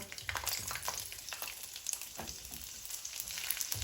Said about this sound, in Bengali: এই তেলের মধ্যে এখন আমি 6-7টা আস্ত রসুন দিয়ে দিব।